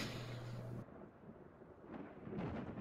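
Thunderstorm with a crack of thunder during a Curse of Strahd tabletop session, a sustained low rumbling roar with broadband noise, loud and close, fading after the first second then swelling again near the end, no voices.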